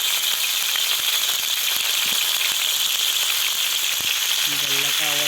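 Potatoes for Kolkata aloo dum biryani fry in hot oil in a pan, salted and tinted with food colouring, giving a steady, dense sizzle throughout, with a few faint clatters near the end.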